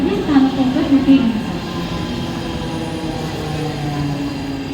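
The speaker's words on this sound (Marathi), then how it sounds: "7 बजकर 10 मिनट की कर्जत जाने वाली तेज लोकल थोड़े ही समय में प्लेटफॉर्म क्रमांक 3 पर आ रही है।" A Mumbai Central line fast local train to Karjat pulls into platform 3 of Diva station at night, a steady loud rumble of rolling stock beneath a platform announcement and background voices.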